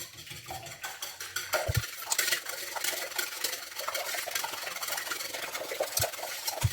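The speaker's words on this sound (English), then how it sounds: "Okay, and now we mix." Ingredients are stirred with agave syrup in a bowl, giving a steady scraping, rubbing and clinking of a utensil against the bowl, with a few sharper knocks, moderately close and without talk.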